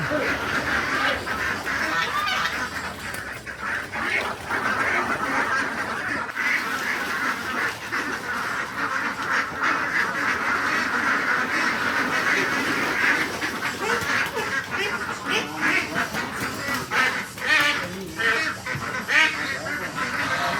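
Ducks quack continuously, many overlapping calls close by forming a noisy, busy chorus that never lets up.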